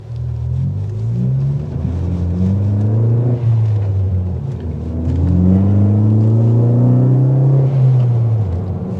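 A Ford Focus ST hot hatch accelerates hard with a loud, rising engine note that dips briefly, then climbs again through the revs, heard from inside the car with no talking.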